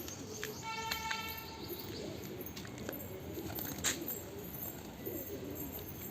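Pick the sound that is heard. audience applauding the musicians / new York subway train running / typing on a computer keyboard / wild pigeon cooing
wild pigeon cooing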